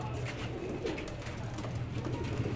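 Pigeons cooing at close range in a bird keeper's loft, soft repeated throaty coos over a steady low background murmur, with no talking.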